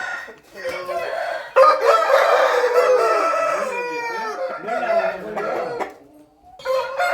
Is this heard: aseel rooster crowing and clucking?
yes